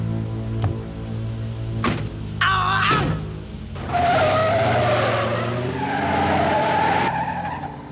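Tires skid and squeal during a car chase in an action film, with engines revving and a screeching slide rising loud over a low rumble, then a long sustained squeal that holds for several seconds.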